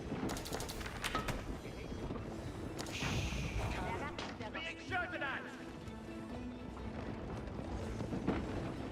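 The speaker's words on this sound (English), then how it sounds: "We have a cannon placed in here with a relic inside, so it's doing excellent damage" Booming cannon fire and other battle noise from the Age of Empires 4 video game, with repeated heavy blasts and clashing over a continuous din. A commentator talks throughout.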